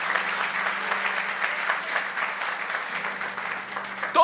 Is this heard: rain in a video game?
no